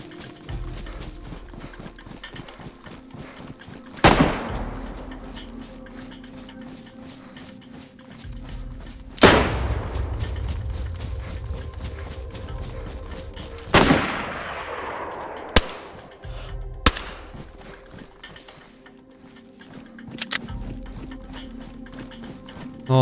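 Gunfire in the video game DayZ: several separate sharp shots spaced seconds apart over a steady background hum, a couple of them followed by quick extra cracks.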